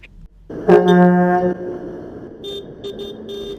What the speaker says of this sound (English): all the farmers seem to be having a whale of a time honking their horns all the way down the South Bank